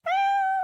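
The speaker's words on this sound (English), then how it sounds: "the radio station played kitty sound effects during commercials and during songs" A kitty meow sound effect played over the radio: one clear, drawn-out cat meow, loud and close, heard on its own.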